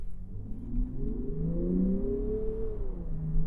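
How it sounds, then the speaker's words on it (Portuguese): A 2023 Land Rover Defender diesel engine revs steadily, a continuous low rumble that rises and holds through the whole stretch, close and prominent, with no talking over it. "Mas olha o ronco desse diesel."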